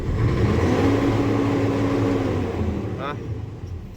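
An Isuzu 6WF1 CRDi diesel truck engine runs steadily after repair, a loud continuous rumble with a faint rising tone that eases off toward the end.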